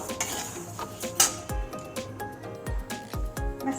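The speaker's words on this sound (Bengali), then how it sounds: "ডালিয়াটা দিয়ে একটু ভেজে নেব।" Dalia (broken wheat) frying in a pan while a utensil stirs and scrapes it, with repeated clinks and knocks of metal on the pan over a light sizzle.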